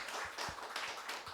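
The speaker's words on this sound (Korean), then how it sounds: "다시 한번 박수로 하나님께 영광 돌리겠습니다" Applause in a church during a Sunday worship service, following a clarinet and piano duet; a short burst of scattered hand claps, moderately quiet, with no talk.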